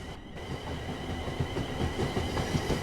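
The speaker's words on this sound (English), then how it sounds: "This train is a Class 350/1 electric multiple unit manufactured between 2004 and 2014" Class 350/1 Desiro electric multiple unit running in Train Sim World, a steady rolling rumble with rhythmic wheel clatter over the rails and a constant motor whine, close and continuous throughout.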